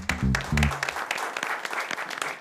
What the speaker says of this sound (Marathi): टाळ्या वाजल्या पाहिजे.